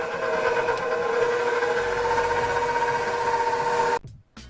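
An electric mixer beats egg yolks, sugar and vanilla with a steady, loud motor whir and buzzing hum, then cuts off abruptly near the end.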